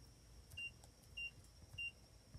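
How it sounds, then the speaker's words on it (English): A Vivint keyless entry door lock beeps while unlocking: four short, high, quiet beeps evenly spaced about half a second apart over a faint background hum. "The beeping you'll hear when you unlock your door"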